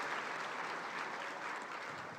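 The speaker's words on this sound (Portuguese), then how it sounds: "Se você pode, aplauda o Senhor pela vida da Camila." A church congregation applauds, a steady wash of many hands clapping, faint and somewhat distant, continuous for a couple of seconds with no voices standing out.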